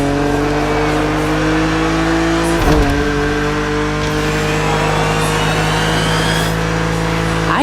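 A BMW Z4 E89 roadster driving in The Crew Motorfest, its engine a steady loud drone with strong low harmonics, a brief thump or shift near the middle, the tone holding fairly constant throughout.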